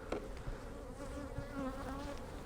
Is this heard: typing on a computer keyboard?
no